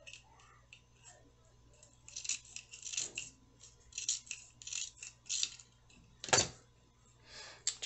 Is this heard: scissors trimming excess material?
yes